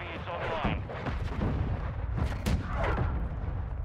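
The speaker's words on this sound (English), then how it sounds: "He's still around, I can hear his shotgun." Shotgun fire rings out in Call of Duty Modern Warfare 2 multiplayer, blasts clustered amid a dense wash of battlefield booms and effects, with a voice talking over the din throughout.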